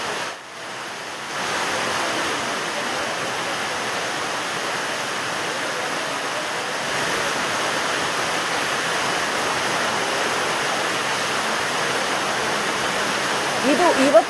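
Rainwater leaks and pours inside a newly built railway station in Koppal before its inauguration, making a steady, broad rushing wash that fills the space continuously, with a brief quieter start and faint background sounds.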